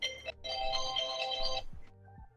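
A phone alarm rings in a steady electronic tone, sounding in one long burst and then cutting off, fairly clear and close against a quiet room.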